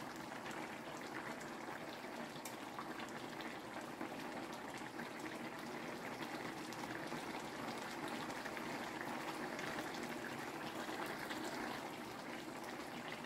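Katla fish curry with bottle gourd simmers on a stove over medium heat, a faint, even bubbling and hiss that continues unbroken with no voices.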